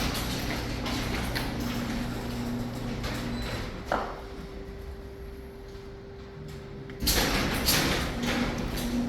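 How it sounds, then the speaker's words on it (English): A garage door opener runs, its motor holding a steady hum as the door travels, with a clunk near the middle and a louder rumble toward the end. "We did check the garage door opener."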